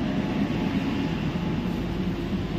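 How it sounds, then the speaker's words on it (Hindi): An air-conditioned underground Kolkata metro train runs between Howrah Maidan and the next station, heard from inside as a steady, loud, low rumble and rolling rail noise throughout, without speech. "जो है हावड़ा मैदान से स्टेशन तक जाने वाली भूमिगत मेट्रो वाली मेट्रो ट्रेन।"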